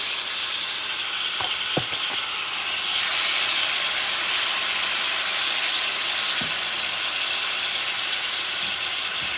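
Chuck steak juices hit a hot pan with chunks of steak for fried rice, giving a loud, steady sizzle that runs throughout, with a few small clicks near the start and no talking.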